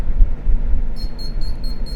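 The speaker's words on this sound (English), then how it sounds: "Beep, beep, beep, beep, beep." Electronic device giving five evenly spaced high, thin beeps over a low rumbling background, each short and moderately loud.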